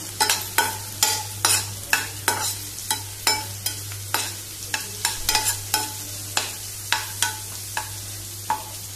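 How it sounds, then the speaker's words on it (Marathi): Garlic, curry leaves, green chilli, asafoetida and onion fry in a pan for a shrimp dish, with a steady rhythm of sharp spoon strikes and scrapes roughly every half second over a low continuous hum. "आता हे बरें मातशें फ्राय करुया। हे पळय लसूण, करवील, हिरवी मिरची, हिंग आनी कांदो"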